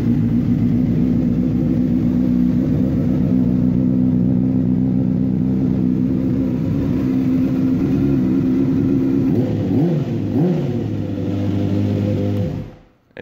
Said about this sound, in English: surprisingly enough, this bike actually runs